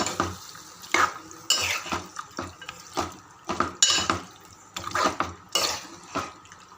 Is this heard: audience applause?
no